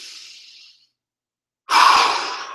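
Part of a qigong breathing routine: a soft breath trails off into silence, then a strong, airy exhale pushed out through the mouth, close and clear with no talking.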